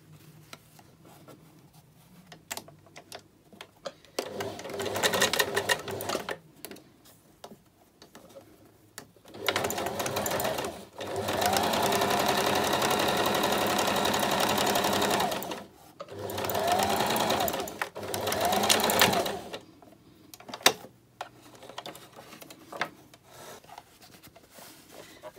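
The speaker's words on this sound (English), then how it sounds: "I'm going to run down the other seam allowance from the underside again" Sewing machine stitching down a seam allowance on fabric. Several close, steady whirring runs of rapid needle clatter are separated by quiet pauses with light handling noise.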